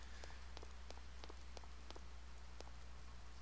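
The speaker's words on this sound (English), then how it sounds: "Why is it raining?" Rain falls in the video game Persona 4, a steady dense hiss with scattered drop-like taps, fairly faint and continuous with no talk.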